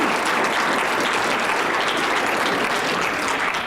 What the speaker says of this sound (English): give a round of applause to Hannah for joining us